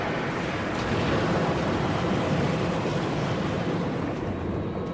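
A roaring, surf-like rush of water blasts steadily for about five seconds from a monster's water attack in Monster Hunter 3 Ultimate, loud and dense throughout with no talking.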